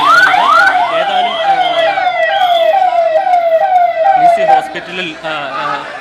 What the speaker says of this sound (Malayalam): ലിസി ഹോസ്പിറ്റലിലേക്ക് ആംബുലൻസ് പ്രവേശിച്ചു കഴിഞ്ഞിരിക്കുന്നു.